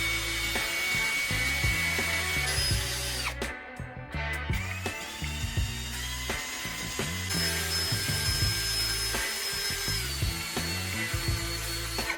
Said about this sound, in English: Drill slowly and let the bit cut without pushing too hard.